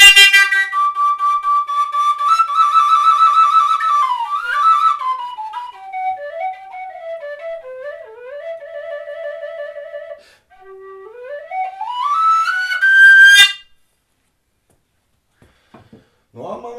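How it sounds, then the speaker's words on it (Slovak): A wooden six-hole shepherd's pipe plays a lively, wavering folk melody with bright breathy tones and quick runs, then stops; brief faint notes return near the end. "Šesťdierková pastierská píšťala"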